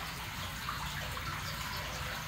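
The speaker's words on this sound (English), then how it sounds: "That water's just ripping." Rainwater from a pre-downpour storm rushes steadily through a yard storm drain, a constant loud gushing roar with no pauses and no voices.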